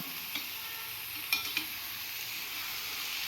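Eggplant curry being stirred in a pan, a low steady sizzle with a few light clicks of the spoon against the pan, quiet and close with no voices.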